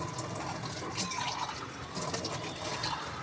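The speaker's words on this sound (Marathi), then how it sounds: "ग्लासने पाणी टाकून छानपैकी क्लिनिंग झालेलं आहे" Water poured from a glass splashes and runs across a kitchen platform beside a basin, a faint continuous trickling and splattering close by.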